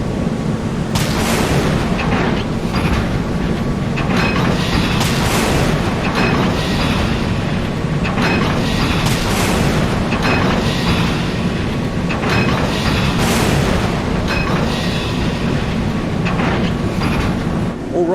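Naval missile launches and booming explosions in the Sea Power video game, a frigate against a missile corvette, form a loud, continuous roar with repeated heavy bursts throughout.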